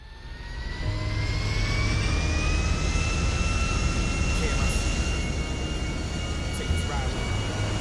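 Private jet in the GTA 5 video game, a continuous jet engine whine and roar with rising tonal whistles, steady and fairly loud, a low rumble underneath.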